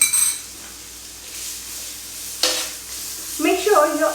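Onion sauteing in oil on a low-medium flame for a green coconut chickpea curry, a faint sizzle with a few clinks and scrapes of a utensil stirring against the pot.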